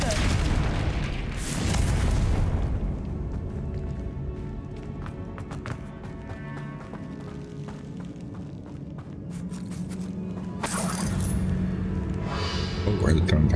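A Confringo fire spell from a wizarding video game bursts with heavy booming blasts near the start and again toward the end, with rumbling, scrambling game noise between them and a voice talking over it.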